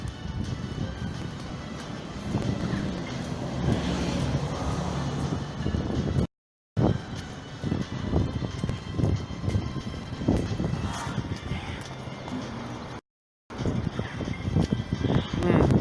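Gusty wind blowing outdoors during a walk, a steady broadband roar buffeting against the microphone with repeated bursts and two brief dropouts.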